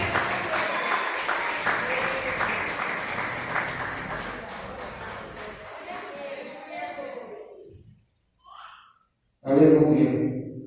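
A church congregation claps along during worship, with rhythmic, fairly loud clapping under singing and voices that fades after several seconds, followed by a brief pause and then a louder vocal burst.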